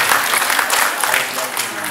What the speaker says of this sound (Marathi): जोरदार टाळ्या एकदा राष्ट्रवादींसाठी